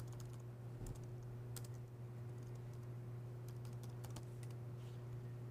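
Quick bursts of computer keyboard typing, with clustered key clicks entering server credentials, sound close up over a steady electrical hum.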